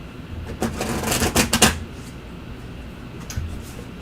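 Tarot cards are shuffled in a brief burst of quick riffling flicks and slaps up close, followed by a quieter pause and one small shuffle.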